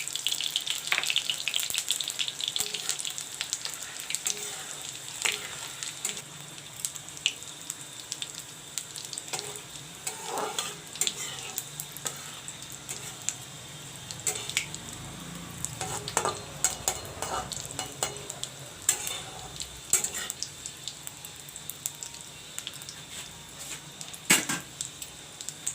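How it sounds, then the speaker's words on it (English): Cumin seeds fry and sizzle in hot oil in a pan while a utensil stirs them, giving a continuous crackling hiss broken by sharp scrapes and clicks throughout. "Put in the cumin seeds."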